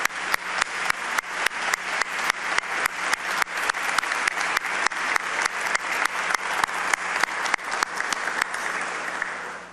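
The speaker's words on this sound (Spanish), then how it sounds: "Pido un aplauso de reconocimiento" An audience gives rhythmic, unified applause at an official event in the Dominican Republic, clapping in time with evenly spaced beats that hold steady and loud for nearly ten seconds.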